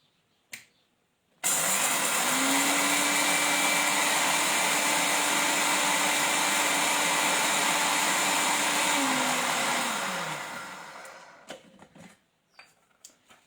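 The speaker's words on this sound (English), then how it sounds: "coffee grinder. Just going to make a little bit of noise." A small electric spice and coffee grinder whirs loudly and steadily for about nine seconds, its motor pitch holding level then dropping as it spins down, followed by a few light knocks and taps.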